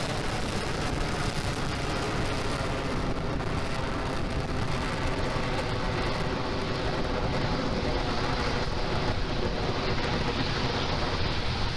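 A Falcon 9 rocket roars at liftoff carrying the ANASIS-II military communications satellite, a dense, steady, broadband rumble that fills the whole stretch without letup, heavy in the lows and distant-sounding.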